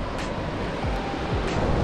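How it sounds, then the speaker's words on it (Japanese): Heavy ocean surf crashes continuously against the rocky shore of Kozushima, a remote island with open sea on both sides; a loud, dense roar of breaking waves with low rumbling swells, close and unbroken. "めちゃくちゃ波の音がうわ"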